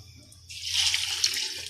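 A glass of water splashes into a pressure cooker for biryani in a short steady pour, starting abruptly after a brief quiet moment, close and fairly loud.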